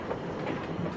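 A passenger train rolls along the rails on a journey toward Guangzhou, steady rumbling clatter of wheels and carriages filling a short stretch at moderate loudness, no voices.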